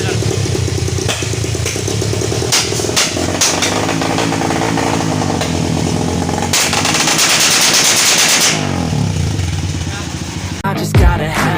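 A Rusi sport trail type motorcycle fitted with a rapid backfire setup revs while its exhaust crackles and pops in fast, machine-gun-like bursts, loud and close, with music with vocals playing underneath.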